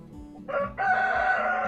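A Barred Rock rooster, an ornamental laying breed from the USA, lets out a single close, loud crow, a short opening note followed by a sustained drawn-out call.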